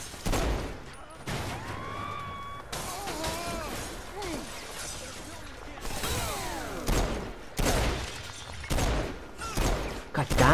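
Bursts of gunfire in Saints Row 4, repeated volleys of shots broken by short gaps, mixed with crashes, whooshing game effects and a voice talking over the action.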